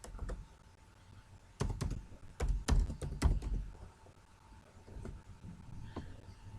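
Someone types a root ID and password on a computer keyboard during a CentOS 8 server setup, with scattered clicks and then a dense burst of firm, close keystrokes before it settles back to a few taps.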